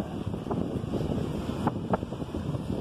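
Strong wind blows steadily across an open beach on a cold day, a broad continuous rush buffeting the microphone with a few louder gusts.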